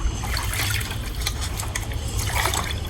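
A glass of water poured into a mix of three eggs and oil meant for feeding plants, a short splashing trickle with liquid gurgling and dribbling, close and fairly loud throughout.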